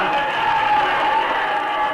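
Dense crowd cheering at a baseball game, a steady broad roar of many voices filling the stands, loud and continuous without a break.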